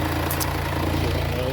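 A Mercedes GLA engine idles steadily with a low, even hum, its auxiliary belt running smoothly without squeaking; the running motor is close and continuous throughout.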